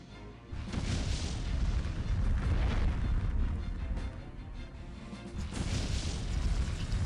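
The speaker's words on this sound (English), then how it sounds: "Yeah, fireworks on spiders." Fireworks summon spell striking spiders in the Septerra Core video game: a sustained, loud rumble of explosive bursts and crackling booms that swells, dips briefly near the end, then surges again, with no voices.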